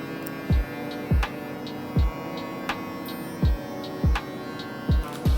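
Electric hair clipper fitted with a 1 1/2 guard, used for a low taper fade, hums steadily and close, with a row of regular low thumps about every 0.7 seconds layered over the buzz.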